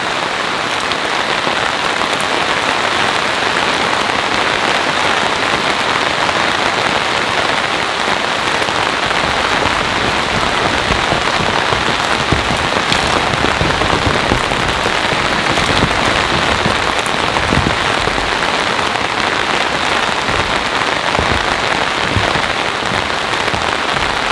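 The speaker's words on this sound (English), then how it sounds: "It's kind of cool how I could hear that rain coming through the forest like that." Heavy rain pours down through a forest in a dense, steady hiss of drops hitting leaves and ground, loud and continuous with no voices.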